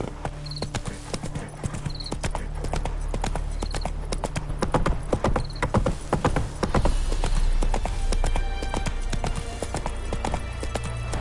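Roach, a horse in a video game, trotting with loud, rhythmic hoof clip-clops, joined by a few chiming tones and a rising background hum.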